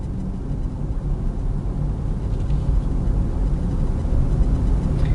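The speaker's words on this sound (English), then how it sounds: "I'm gonna be quiet here for a second and let you hear how quiet this vehicle is." Inside a 2016 Lincoln MKX Black Label Edition with active noise cancellation, a low, steady road and engine rumble fills the cabin while driving, subdued and continuous with no one talking.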